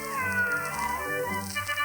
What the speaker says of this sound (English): My cat meowed and also bowed.